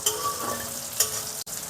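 Paneer cubes fry in hot oil for biryani, a steady close sizzle with soft crackling and a couple of brief spoon or pan knocks, with no talk.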